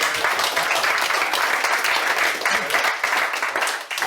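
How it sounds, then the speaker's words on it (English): Sustained applause from a large crowd at an Irish craft beer society AGM, dense and steady clapping filling the room for several seconds before tapering slightly at the end. "Another round of applause"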